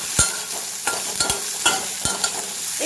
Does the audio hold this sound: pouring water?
no